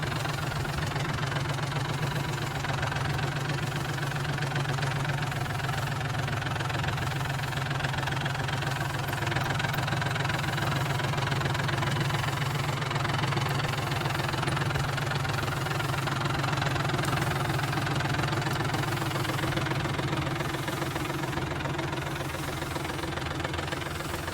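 A tractor engine runs steadily, powering a farmer's homemade spray machine in a field, a loud, constant low rumble with a knocking, idling rhythm and no pauses.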